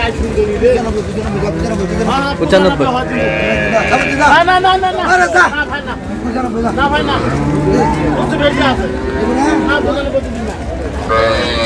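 Cattle low and moo repeatedly at a rain-soaked livestock market in Raniganj, where cows and calves are being sold; the calls are loud and close, overlapping with a steady crowd murmur and people talking.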